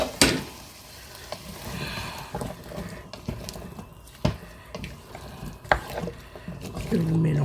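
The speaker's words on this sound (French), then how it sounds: "Et là, à ce moment-là, vous mettez les carottes." Beef frying in a pot as carrots are tipped in and stirred, a steady sizzle with scraping clacks of the spoon against the pot and soft thuds, while someone talks over the cooking.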